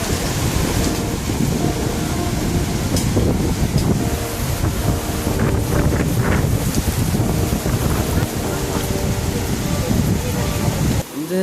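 Ocean waves at Mandarmani beach, India, roll in a continuous loud roar, with heavy wind buffeting the microphone throughout.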